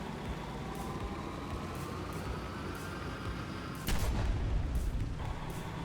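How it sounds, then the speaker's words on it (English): A railgun fires aboard the USS Independence X warship in a video game: one sharp, loud blast lands partway through over a steady, rumbling ambient bed, with no voices. "How does this railgun work?"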